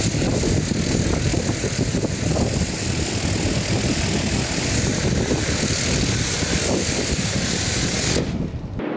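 Pressure washer with a spinning rotary nozzle blasting the inside of a farm loader bucket, a loud constant roaring hiss with engine rumble that continues steadily before cutting off near the end.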